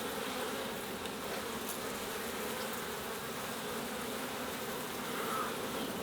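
Honey bees swarm around a row of beehives in summer, a dense, steady buzz filling the air close by, with no talk over it.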